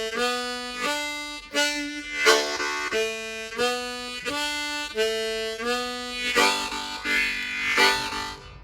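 Harmonica plays the Angeline the Baker fiddle tune in the lower octave, a string of clear sustained reedy notes and chords in a steady rhythm, close and solo with no voices.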